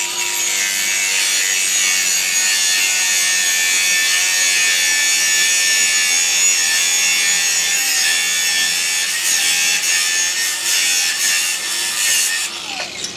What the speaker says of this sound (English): what I'm going to use instead is a cutting disc and an angle grinder